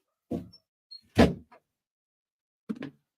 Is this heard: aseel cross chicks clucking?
no